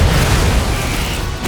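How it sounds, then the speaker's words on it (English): A Bombarda explosion spell from Hogwarts Legacy bursts as a loud, dense low boom that rumbles steadily and close for its whole length, with no one talking. "Bombarda!"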